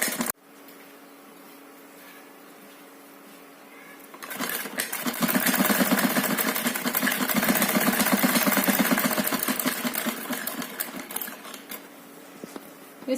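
A sewing machine stitches along a neckline, quiet at first, then running fast and steady for several seconds with a rapid mechanical whir before slowing near the end.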